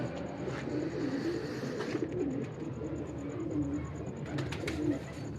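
Ferozpuri and Teddy pigeons coo close by in a continuous throaty murmur, with a few faint ticks and a steady background whine.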